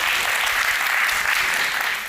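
An audience at a round-table panel applauds a panelist, a dense, even wash of many hands clapping together, loud and sustained, tapering slightly at the end.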